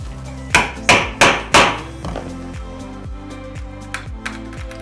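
Reclaimed wood struck to knock out old nails: four hard, close hammer blows in quick succession, followed by lighter taps and a low ringing hum.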